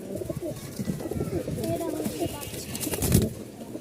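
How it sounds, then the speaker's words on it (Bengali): Male racer pigeons cooing at a pigeon market stall, soft repeated low coos close by with chatter and bustle around them. "নরের ডাক দেখে মন ভরবে না এরকম কোনো পাবলিক নাই।"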